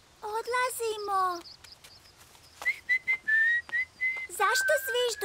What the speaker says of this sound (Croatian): Zašto zviždućeš? Pa to je kao da razgovaraš s pticama.